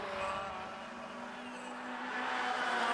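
Mazda MX-5 race cars run at Castle Combe, a faint, distant engine drone that swells gently as the cars come closer, with no voices.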